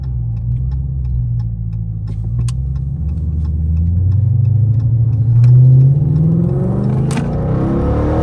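A loud, deep straight-piped second-generation Dodge Charger R/T engine rumbles continuously, its pitch climbing and falling as it revs, with a few sharp ticks along the way.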